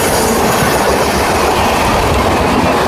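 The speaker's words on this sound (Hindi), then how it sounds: "झारखंड स्वतंत्र एक्सप्रेस 12398 महाबोधि एक्सप्रेस ओवरटेक करती हुई" Mahabodhi Express 12398 overtaking on an Indian railway line, a loud, close, continuous rumble of wheels and wagons with steady clatter throughout and no voices.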